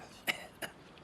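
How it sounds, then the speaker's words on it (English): Two short, rough coughs sound close by, about a third of a second apart, in an otherwise quiet room. "making you cough."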